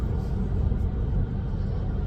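Steady low rumble of tire and road noise inside a 2023 Toyota Corolla SE on its factory all-season tires, a continuous even drone with no voices.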